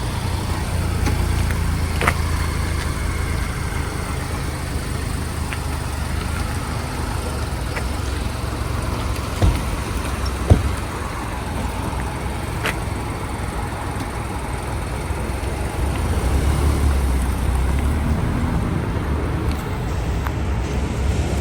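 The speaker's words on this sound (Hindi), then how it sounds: "और अब ये मेरा फ्रेंड गाड़ी लेके जा रहा है पेट्रोल भरवाने" A car pulls away from a roadside rest area on a trip toward Montreal, heading off to refuel; a steady engine and road rumble carries throughout at moderate level, with a few brief knocks and no talk.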